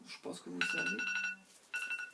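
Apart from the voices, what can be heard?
phone alarm ringing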